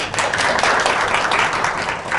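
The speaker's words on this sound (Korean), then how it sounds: "박수 한번 해주세요." Sustained, dense applause from a lecture audience, steady and fairly loud throughout, with no voices rising above the clapping.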